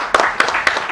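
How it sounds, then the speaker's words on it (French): Children's show audience clapping for a young performer after a recitation, short sharp bursts of applause in quick succession, close and fairly loud. "Applaudissez pour Kalika."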